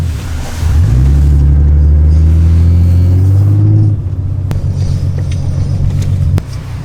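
A 124 car's engine accelerates hard: a loud, close rumble climbs steeply in pitch for a few seconds, drops back, then holds a rougher steady drone before a sharp click near the end.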